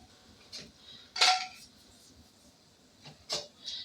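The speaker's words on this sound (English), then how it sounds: "Let me grab my plate" A hot plate is lifted and handled on a kitchen counter beside taco shells fresh from the oven, giving a few short ceramic clinks and scrapes, one louder clatter near the middle and lighter knocks toward the end.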